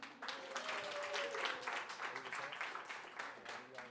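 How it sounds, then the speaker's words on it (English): Audience applause at a talk fills the room as a dense, steady patter of many hands, fairly faint and even, fading slightly toward the end. "let's get a little clap for that"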